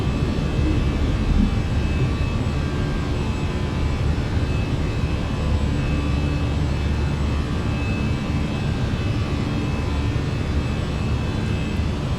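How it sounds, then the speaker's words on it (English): Jet engines of a Fenix A319 airliner roar steadily just after takeoff in Microsoft Flight Simulator, a continuous broadband rumble with a faint whine, unchanging and loud throughout with no talk. "I can hear that the engines are coming from this direction"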